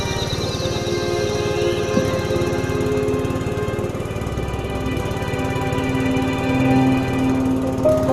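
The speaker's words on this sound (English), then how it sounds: "It's amazing that in that direction all what you hear are motors." Engines and machinery drone continuously at a mining site in the Peruvian Amazon, a dense, steady mechanical hum with a rapid chugging pulse, moderately loud and constant with no voices.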